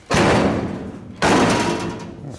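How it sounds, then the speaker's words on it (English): A door on the cab of a 1930s barn-find pickup truck rebuild is shut twice, each a loud close slam with a ringing, decaying tail, about a second apart. "Let's just shut this door."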